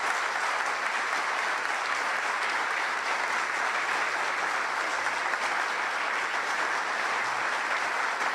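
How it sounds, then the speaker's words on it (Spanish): Audience applause for a Nicaraguan priest at a tribute, with the crowd standing, a thick, continuous roar of clapping that holds steady and loud from start to finish. "le demos un estruendoso aplauso cariñoso a este sacerdote indio"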